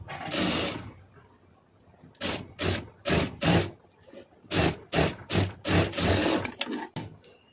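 A sewing machine stitches fabric in short bursts: one long run, then a rapid series of brief stitching spurts separated by quiet pauses, close and fairly loud.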